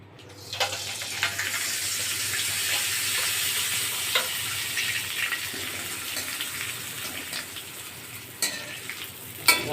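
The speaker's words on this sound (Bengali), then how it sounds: "উঠে দিয়ে পাঁপড়টা ভাজা হয়ে গেছে" Papad fries in hot oil with a steady, bright sizzle, close by, broken by occasional clinks and scrapes as the pieces are turned and lifted out, with no talking.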